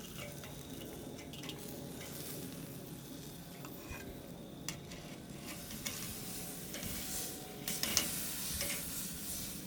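Thick-cut pork chops on a Weber kettle grill give off a steady, faint sizzle with light crackling, broken by occasional soft clicks and taps of metal as they are lifted off.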